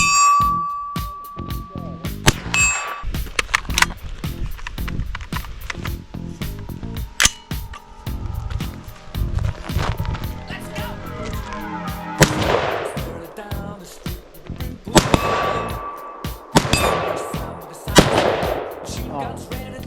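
AR-15 rifle and shotgun shots ring out outdoors, a string of loud sharp cracks and booms spread irregularly over time, with people talking between the blasts.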